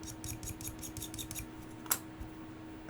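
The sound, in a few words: scraping paint off painted feet with a scraping tool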